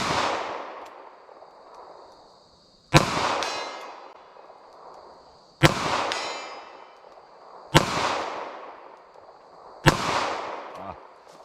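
Five sharp, loud gunshots from a .32 H&R Magnum revolver loaded with Federal American Eagle soft point rounds, fired one at a time at a steady pace about two to three seconds apart, each with a decaying echo.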